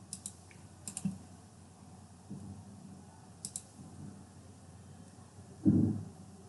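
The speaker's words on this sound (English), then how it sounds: "I can just click and drag so that it gets moved" Clicks from a computer mouse and keyboard while drafting a pentagonal lamina in CAD: a few sharp, isolated clicks spaced through the clip, close and fairly quiet, with a heavier thump near the end and no talking.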